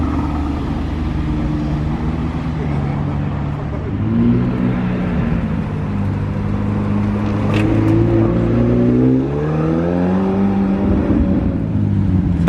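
An Aston Martin DBX drives through Monaco, its engine rumbling at close range with the pitch rising and shifting as it moves, alongside steady street noise.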